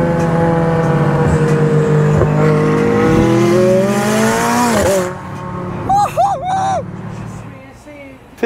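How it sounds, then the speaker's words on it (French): A McLaren sports car engine roars and revs loudly and steadily, pitch climbing, then drops off as a voice briefly speaks over it. "Elle fait un bruit de dingue, la McLaren de Parker."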